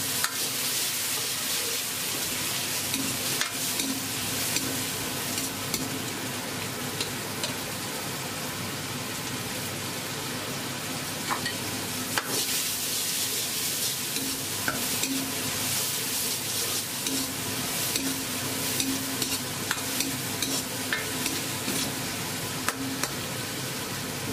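Stir-frying a Sichuan restaurant dish in a wok after a ladle of beer is added, a steady broadband sizzle with scraping stirs running continuously throughout, close and fairly loud with no talking.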